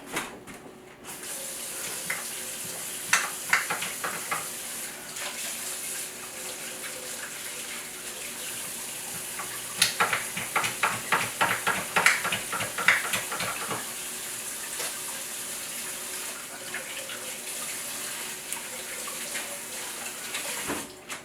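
Oily hands rinsed under a running kitchen tap while making sourdough bread, a steady broadband rush of water with a burst of splashy rubbing and scrubbing in the middle, close and moderately loud.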